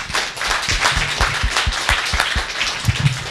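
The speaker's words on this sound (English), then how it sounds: "A round of applause to Kari." An audience at a forum on media literacy claps for a presenter, a short burst of distinct, fairly close handclaps with an uneven rhythm.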